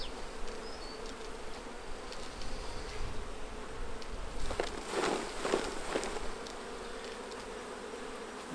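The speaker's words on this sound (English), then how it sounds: "So not a lot of bees flew up in the air." Bees buzz around an open hive as frames are lifted, a continuous close drone lasting throughout, with a busier stretch of rustling and handling noises midway.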